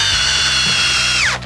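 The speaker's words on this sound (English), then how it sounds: "And now we are going with the 996 on a 6-inch specs." A DeWalt DCD996 cordless drill drives a 6-inch fastener, whining loud and close with a steady high motor tone and a ratcheting low rumble, then winds down sharply at the end.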